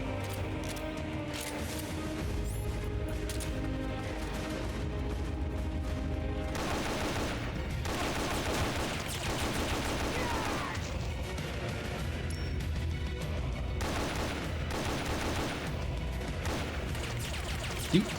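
An SVD sniper rifle fires in the video game Metal Gear Solid: Peace Walker. Loud, heavy shots crack in repeated bursts over a dense, continuous game soundscape, with almost no talking.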